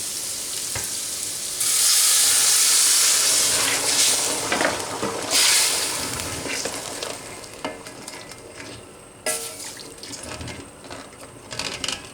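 Steady sizzling and bubbling from a pot of rice cooking on low heat on the stove after hot water is added, with a louder hissing burst early on and small clinks throughout.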